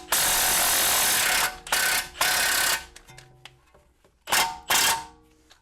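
An impact wrench with a swivel socket hammers at a BMW 335i E90 strut nut in several loud, rattling bursts of varying length, separated by short quiet gaps and small clicks.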